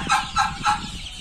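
Three short clucking calls from chickens on a chicken farm, evenly spaced and fairly close, with a low rumbling background underneath.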